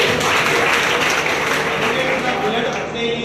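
An audience at a blood donation event breaks into dense, steady applause. The clapping stays loud and continuous throughout, with a faint voice mixed in.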